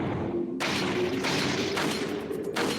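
Mauser-style pistol firing in Resident Evil 4 VR, a game pistol with a narrow iron sight: four sharp, loud shots spaced roughly half a second apart over a steady low hum, each with a short burst of bright noise.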